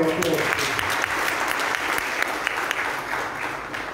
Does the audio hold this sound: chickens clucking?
no